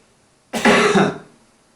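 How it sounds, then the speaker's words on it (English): A single loud, harsh cough close to the mic, lasting about half a second, with silence before and after. "Hear that cough?"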